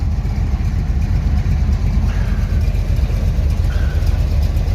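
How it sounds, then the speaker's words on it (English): A 1976 Chevy Nova's custom 355 small-block V8 with a Holley carburetor idles steadily, a deep, close, loping rumble with even low-end pulses and no voices. "idle did come up a little bit after I was adjusting the idle mixer screws"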